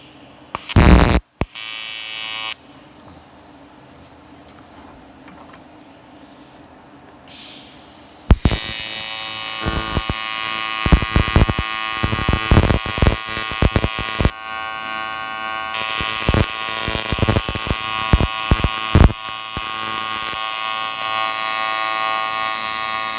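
TIG welder arcing on an old alloy OM606 diesel housing, giving a harsh electrical buzz in repeated bursts and then longer continuous runs, close and fairly loud, with quiet gaps between passes.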